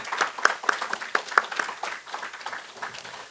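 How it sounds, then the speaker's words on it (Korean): A small group claps, a brief burst of scattered applause that thins out gradually. "우리 목사님 위해서 한번 감사의 격려 박수 보내겠습니다"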